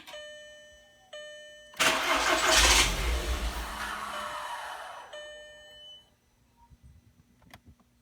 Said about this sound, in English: The vehicle starts only a little bit and then it dies.